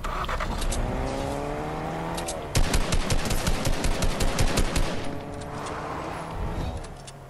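A car driving in Fortnite Battle Royale, a steady engine drone with shifting pitch, broken midway by a rapid burst of gunfire, then the engine carries on alone.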